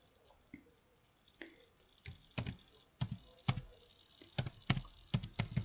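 Keys clack on a computer keyboard in short irregular bursts. Quiet at first, then steady close-up typing with distinct individual keystrokes, no voices.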